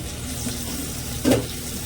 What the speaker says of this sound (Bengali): আর আলুগুলো ভাজা ভাজা হতে থাক